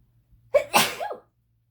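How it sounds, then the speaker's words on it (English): A single close, sharp human sneeze with a short intake breath before it, then quiet indoors at home. "oh, I'm gonna sneeze."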